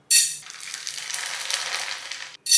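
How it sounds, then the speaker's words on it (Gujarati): Bhungla snack pellets fry in hot oil for a chevdo, giving a steady bright sizzle that bursts loudly at the start, holds through the middle, cuts out briefly and swells again at the end. "આ જ રીતે થોડા થોડા ભૂંગળા લેતા જાશું અને તળતા જાશું"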